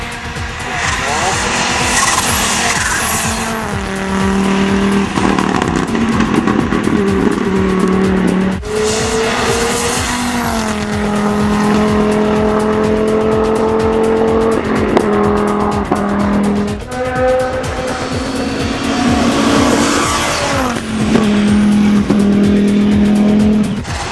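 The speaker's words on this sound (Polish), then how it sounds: "Jest to Audi Quattro" An Audi Quattro rally car at a hill-climb event in Korczyna, engine screaming loud and close through repeated gear changes, with tires squealing and skidding across the run.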